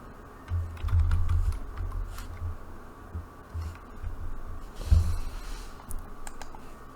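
Keys tapped on a computer keyboard while text is written into writing software, soft irregular clicks in short bursts over a hushed room background, close by and without talk.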